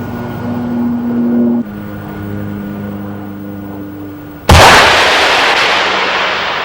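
Swedish artillery shooting at a towed sleeve target during a 1992 weapons demonstration: a low mechanical hum, then one sharp, loud blast that decays into a fading roar.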